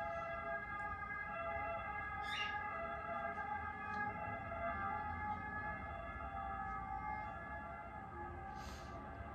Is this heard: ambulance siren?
yes